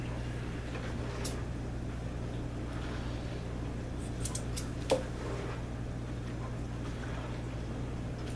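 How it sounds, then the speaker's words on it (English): Scissors trimming a small cloth gun-cleaning patch, a few faint quick snips over a steady low room hum, one sharper click in the middle, with no talking. "And I need to cut this patch down."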